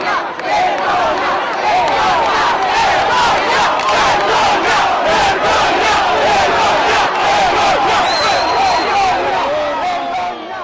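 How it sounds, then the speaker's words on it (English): A large crowd outside a courthouse after a verdict chants "vergogna" over and over in loud, rhythmic shouts, a dense mass of voices held at full volume throughout. "shame, shame, the crowd chants"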